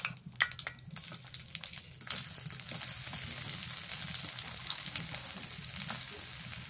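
Chopped onion frying in oil on a village clay stove alongside bay leaves and cardamom, a steady dense sizzle that swells after a brief crackly start and carries on loud and close with no talking.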